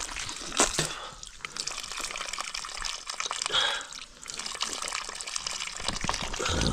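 Water from a tank flows and splashes onto the ground outdoors, a continuous close gushing and trickling with uneven surges and no talking.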